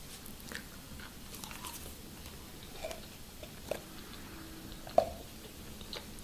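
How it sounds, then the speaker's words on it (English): Gum chewed close up in a quiet, softly spoken ASMR setting: faint, sparse wet clicks and small snaps, with a few sharper pops standing out over low background hiss. No talking. "time to click away if you despise chewing sounds"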